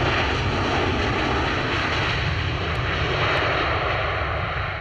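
Civil aircraft engine on approach at an airshow, a loud, continuous broadband roar that holds steady throughout, with no talk.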